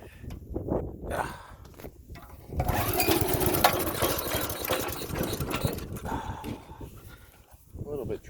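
Honda GX200 engine on a mini go-kart idling on half choke, a low, uneven putter that rises to a rougher, louder run midway, with people talking over it.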